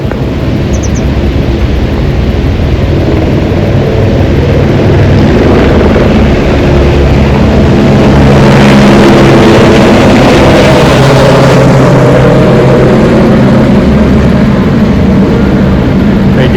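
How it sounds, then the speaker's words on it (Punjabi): A loud, continuous helicopter roar with rushing wind, swelling in the middle as it passes overhead near Govindghat, then fading slightly while staying steady. "ਇੱਧਰ ਨੂੰ ਇਹ ਹੈਲੀਕਾਪਟਰ ਜਾਂਦਾ"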